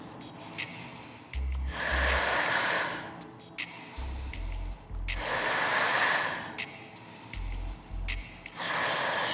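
Deep, forceful breaths during a Pilates mat core exercise, three long airy exhales in a slow rhythm, close to the mic, with short quieter gaps and soft low thumps between them.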